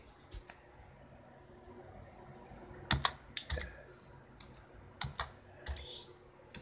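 Someone typing a command on a computer keyboard running Windows 98, a few scattered key clicks, then a quick cluster of keystrokes, close but fairly quiet.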